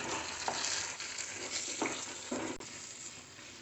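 Roasted gram halwa in a pan on low flame sizzles steadily in ghee and oil, with a few soft scraping stirs of a spoon against the pan over continuous frying noise and no voices.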